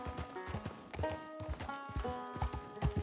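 Horse galloping in Red Dead Redemption 2, its quick, rhythmic hoofbeats close and steady throughout, with a brief faint whinny-like tone.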